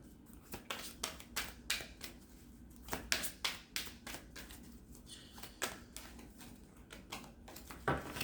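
Tarot cards are shuffled by hand in a quiet room, with a steady series of crisp riffling snaps and taps repeating roughly every half second.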